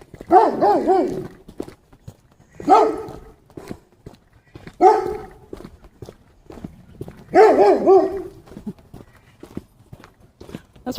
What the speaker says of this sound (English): That's why they have that privacy tarp, because the dogs bark.